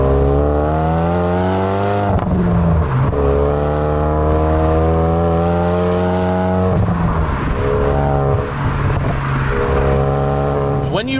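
Hyundai Veloster Turbo SE accelerating hard on an open road, the engine note rising steadily through the gears with clear upshift breaks, loud and close from inside the cabin.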